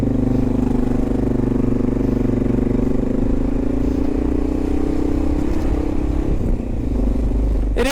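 A Honda XR650L motorcycle ridden through New York City, its engine a loud, steady single-cylinder drone heard up close, with wind rumble and a slight change in pitch near the end.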